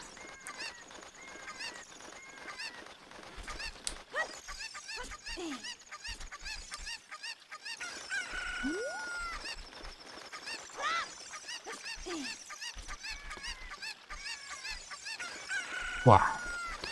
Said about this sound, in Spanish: Sigue pasando lo de que se buguea la gallina cuando la intentas pillar